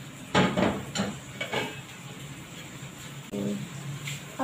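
A cooking pan is shifted from one stove burner to another in a home kitchen while vegetables cook for baked pasta, giving a few close metallic clanks and scrapes early on, then a softer knock later.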